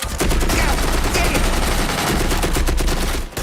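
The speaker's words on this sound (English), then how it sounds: "Don't stop shooting! It's a 2-person gun" A 70-year-old two-person machine gun firing on a film set, a loud, continuous rattle of rapid shots that runs almost the whole time before a brief break near the end.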